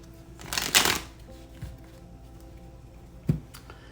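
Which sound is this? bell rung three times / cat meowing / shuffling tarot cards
shuffling tarot cards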